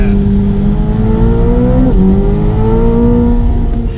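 A 1064 hp Chevrolet Corvette ZR1 accelerates hard with a loud, close engine roar whose pitch climbs steadily, dips briefly at a gear shift, and climbs again without pause.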